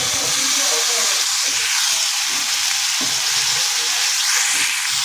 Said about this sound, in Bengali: এবার এতে আগে থেকে বেটে রাখা পেঁয়াজগুলো দিয়ে দিচ্ছি।